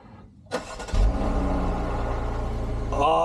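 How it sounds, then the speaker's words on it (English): A Jeep engine cold-starts up close: a short cranking burst, then it catches with a loud rumbling roar that settles into a steady, heavy idle, with a brief rise near the end. "if we can't get a cold start on the car, we can get a cold start on the Jeep"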